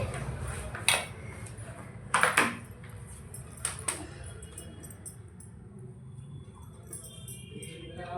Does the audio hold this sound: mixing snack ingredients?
yes